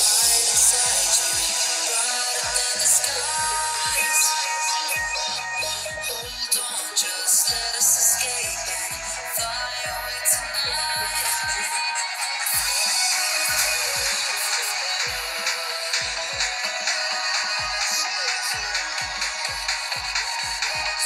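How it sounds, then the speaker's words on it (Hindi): A song plays at full volume through the built-in speaker of a Google Pixel 7 phone. The music is loud and steady, with a thin, bass-light tone and a pulsing beat running throughout without any talking. "उसके बाद हम इस सॉन्ग को प्ले करते हैं"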